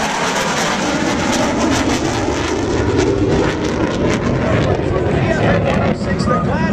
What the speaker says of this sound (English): The smoke, the FA-18 Hornet in the photo pass.